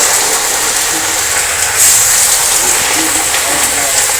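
Raw chicken pieces dropped into hot cooking oil for a home-made chicken curry, giving off a steady, bright sizzling hiss that stays loud and even throughout, with a slight swell partway through.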